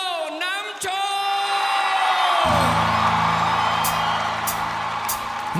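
A live variety-show audience in Thailand cheers, whoops and applauds to welcome a guest on stage, a dense, loud crowd roar that fills the whole stretch, with stage music kicking in underneath about halfway through.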